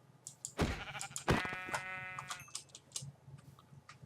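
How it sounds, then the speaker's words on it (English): Sheep bleating in a Minecraft-style survival game: two loud, close bleats in quick succession, the second drawn out and wavering, then quieter game ticks and faint clatter. "That was probably the only sheep within the area."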